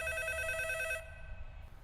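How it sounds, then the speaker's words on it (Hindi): A telephone rings in a room with a steady electronic trill for about a second, then stops, leaving a low room hum. "अभी फोन हमारे रूम में बज रहा है।"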